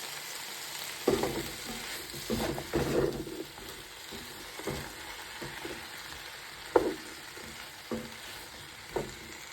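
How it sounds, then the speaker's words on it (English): Vegetables frying in a pan for soup, a low steady sizzle broken by a few scraping stirs and occasional clacks of a utensil, fairly quiet with no talking. "I'm just going to fry all this up"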